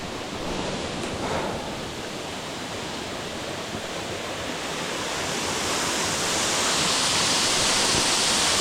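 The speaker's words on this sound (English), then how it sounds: "I'm here at Wolf Creek Waterfall in the CRAIK Forest." Wolf Creek Waterfall in Craik Forest roars as a continuous, broadband rush of falling water heard from close by, growing slightly louder toward the end.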